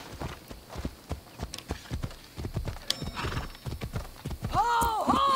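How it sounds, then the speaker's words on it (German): A horse in Assassin's Creed Odyssey clip-clops along at a walk with steady hoof beats, then neighs loudly near the end; someone talks over the hooves. "Das ist mein Pferd."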